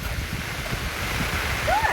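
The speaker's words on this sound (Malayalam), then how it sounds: "ഭയങ്കര കാറ്റും മഴയും." Steady roar of strong wind and heavy rain with rushing, surf-like noise filling the whole clip, loud and continuous with no voices.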